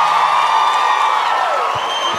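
A concert audience at a Brazilian pagode show roars with loud, sustained cheering and whooping, a dense wall of crowd noise close and continuous.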